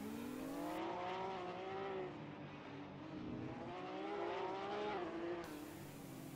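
Porsche Supercup race cars at Monaco in 2017, two Porsches running nose to tail on the descent toward the hairpin. Their loud, close engines whine continuously, with pitch rising and falling through gear changes and no talking.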